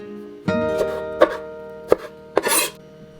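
Strawberries being chopped with a knife on a board, a few distinct sharp cuts spaced irregularly, close and fairly clear with light kitchen rattle.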